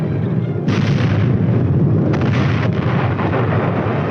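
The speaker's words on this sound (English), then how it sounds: "A clean hit and the target is destroyed." Tank gun firing in a 1950s US Army setting, two heavy booming blasts in quick succession over a continuous loud rumble of battlefield noise, close and dense with no talk.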